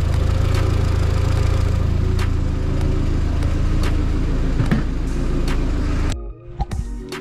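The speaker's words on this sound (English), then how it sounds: "We have both fans spinning" Both radiator cooling fans of a VW Golf Mk4 spin at low speed, a steady whirring hum alongside the idling engine, close by, before the sound drops away near the end.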